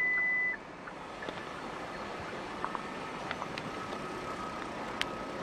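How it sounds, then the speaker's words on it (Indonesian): A Hyundai Stargazer sounds a warning beep when the key is not detected inside. A single clear tone sounds at the very start, followed by faint background noise with a few small clicks. "Ada bunyi beep kalau kuncinya nggak terdeteksi di dalam."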